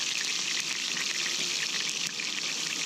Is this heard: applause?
no